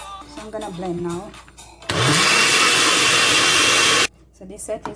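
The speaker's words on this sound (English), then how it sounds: "So I'm gonna blend now." A kitchen blender whirs loudly for about two seconds, pureeing boiled pumpkin for Jamaican pumpkin punch, with someone talking before and after.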